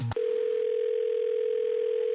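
A steady telephone dial tone on a Korean phone-in counseling broadcast while a caller is awaited, holding unbroken at a constant level after a brief click at the start, with no speech.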